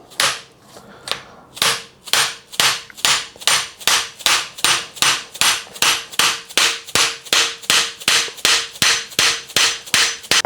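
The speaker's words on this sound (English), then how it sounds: "and you hit it with a hammer" Repeated sharp hammer blows driving a star nut into a bicycle suspension fork steerer, about two per second in a steady rhythm, loud and close, after a few slower opening taps.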